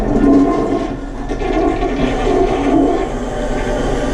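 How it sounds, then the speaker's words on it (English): A downstairs household toilet flushes with a loud, steady rush of water that holds strong for the full stretch, close by and with no speech over it. "downstairs toilet to flush properly"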